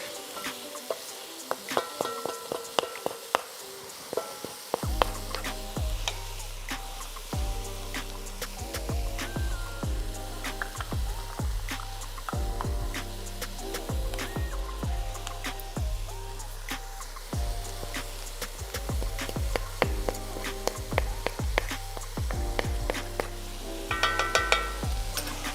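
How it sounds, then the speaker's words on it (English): Ground meat browns in a pan with garlic, a steady sizzle and frying crackle running throughout, with a rhythmic low thumping in the background, probably music. "What we're looking to do right now is just brown the meat"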